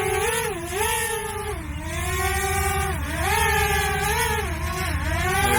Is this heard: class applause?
no